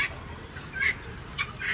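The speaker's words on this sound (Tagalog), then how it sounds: "Yan ang mga manok ko." Chickens and ducks calling nearby on a farm resort, a few short clucks and quacks over a low outdoor hum, no talking.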